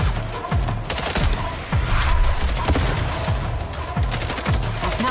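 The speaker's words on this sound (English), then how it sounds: "Is that gunfire I'm hearing?" Rapid bursts of video game gunfire crackle continuously, with repeated sharp shots and low booms layered over a busy, dense battle din.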